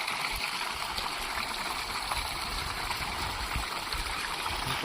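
Water gushes and bubbles steadily from the outlet of a 3 HP solar-powered borewell pump with a 3 kW drive, a continuous broadband rush with no talk over it.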